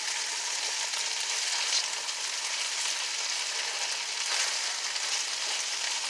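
Smoked turkey hash browns in a pan with a constant, close sizzle and crackle, moderately loud and unbroken, without any voices over it.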